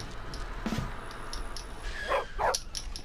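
A dog in the video game Bully barks and yips in a few short bursts, moderately close, over a quiet game background.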